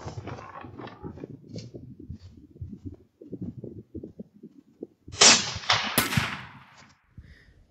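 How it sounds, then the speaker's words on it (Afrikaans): Rifle shots fired at a steel gong target outdoors: after several seconds of quiet talk, two loud sharp reports land about a second apart, each trailing off into a decaying ring and echo. "So ek het nou die skote geskiet en ons het na die gong gaan kyk."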